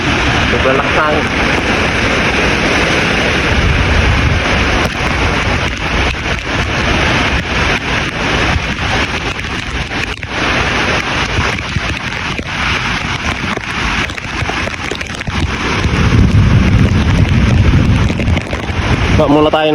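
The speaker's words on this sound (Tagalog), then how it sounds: "sobrang lakas ng hangin" A strong typhoon wind with rain blows in a loud, continuous roar, with heavy gusts buffeting the microphone and swelling near the end, and voices are heard faintly beneath it.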